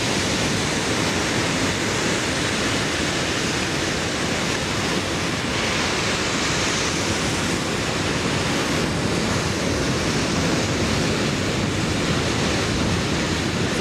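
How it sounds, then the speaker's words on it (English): Steam rushing from a pipe at a geothermal power plant, a loud, steady, broadband hiss that continues without a break, close and unbroken throughout. "So this is the sound of one of the steam, or one of the pipes with steam coming out."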